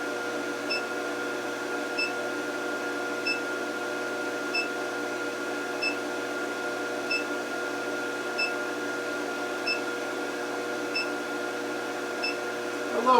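An LH-15a induction heater heating 1/2 inch square steel stock gives a steady, loud electrical hum and whine, with faint, evenly spaced ticks roughly every second and no voices.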